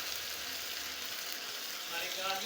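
Onions fry in a pan for an arvi chicken curry, a soft continuous sizzle and crackle heard close by, fairly even and unbroken for the whole stretch.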